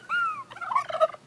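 A pet turkey lets out a single short gobble, a quick warbling burst just over a second long, close and clear with no talking over it.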